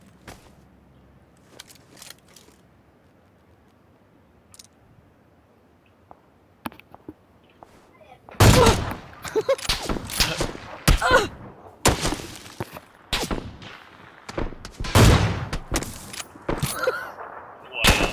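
Video game gunfire, quiet scattered pops at first, then from about eight seconds a dense run of loud sharp shots and bursts in quick succession, with brief pauses between volleys.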